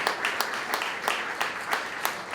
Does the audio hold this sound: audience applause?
yes